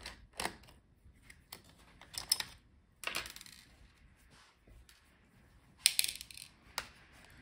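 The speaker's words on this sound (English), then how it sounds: "Now unscrew all the screws for the heatsink." Small screws being backed out of the heatsink on an MSI Alpha 15 B5EEK laptop, giving sparse, quiet metallic clicks and taps with brief clattery bursts amid near silence.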